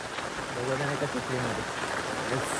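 Heavy monsoon rain pours steadily in the Konkan countryside during the Ganesh festival, a dense, even wash of close hiss under someone talking throughout.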